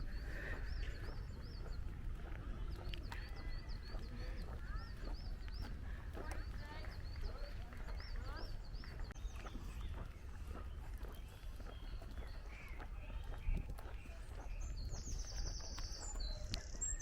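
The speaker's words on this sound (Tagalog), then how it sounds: "Sarap pakinggan yung mga huli ng ibon." Birds call outdoors during a family outing in the UK, with repeated high chirping phrases rising over a steady low rumble of wind or traffic for the whole stretch.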